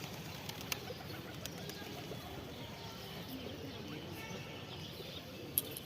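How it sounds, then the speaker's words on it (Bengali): Pigeons coo softly at a temple among faint chirps and occasional wing flaps, over a quiet outdoor background. "প্রচুর পায়রা"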